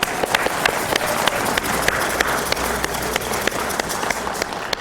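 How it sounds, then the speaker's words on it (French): A church retreat congregation in Paris claps together in praise, a loud, dense run of steady applause with sharp individual claps standing out throughout. "Applaudissons le Seigneur."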